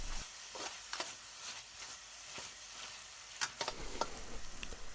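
Chicken skin and fat sizzle steadily in a hot pan for a Thai-style red curry, with clear scraping stirs and clinks at intervals over the continuous frying hiss.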